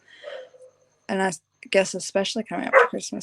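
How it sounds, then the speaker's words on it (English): A neighbour's dog barks once nearby, loud and short, then someone talks over it. "that's my neighbour's dog apparently"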